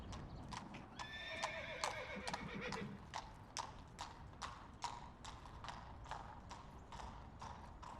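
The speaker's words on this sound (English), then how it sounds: "Horse." Steady clip-clop of hooves at an even pace, with a horse whinnying early on; faint and distant overall.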